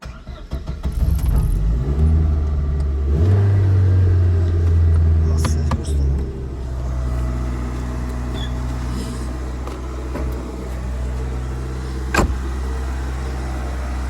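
A 2007 Daewoo Nexia engine runs nearby with a steady low rumble. It swells briefly in the first seconds, then settles to an even idle, with a few small clicks and knocks on top.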